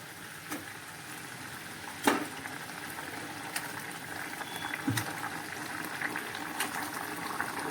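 Fish curry simmers and bubbles in a pan, making a continuous low hiss with scattered small pops and one louder clink near the start, with no talking.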